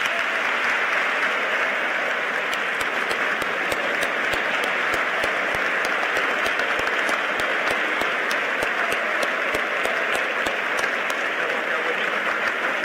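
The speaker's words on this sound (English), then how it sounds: "Please join me in one more round of applause for Secretary Pompeo." At the close of the Secretary of State's remarks at The Citadel, a large audience gives a long, steady round of applause, even and continuous throughout.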